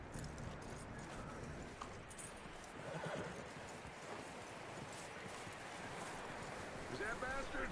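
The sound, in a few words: horse hooves clip-clopping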